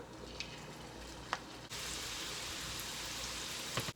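Wheat flour sweet shells (kalakala) frying in hot oil, a steady close sizzle that jumps louder partway through as more dough goes into the pan, with faint crackles above it and no talking.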